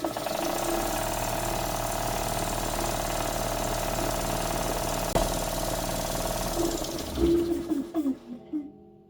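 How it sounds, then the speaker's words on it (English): A repaired air compressor runs with a steady mechanical hum and rattle for several seconds, then winds down and clatters to a stop near the end, close by. "Everything looks good, sounds good, sounds like an air compressor."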